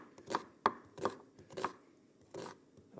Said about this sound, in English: So I'm going to go ahead and chop up my onions here.